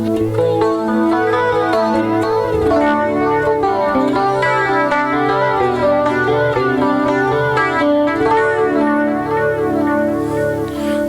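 An electric guitar runs through a Valeton GP200 set to a Roland JC-120 clean amp model, a loud, steady stream of bright, clean picked notes and chords that plays alone without any speech.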